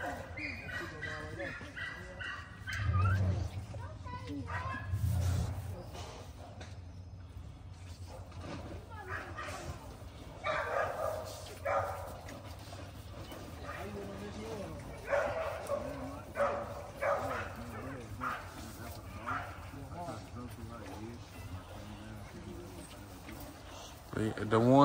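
A litter of day-old American Pitbull Bully puppies gives off faint whimpers and small yips, scattered and soft at close range, mixed with background talk and household noise.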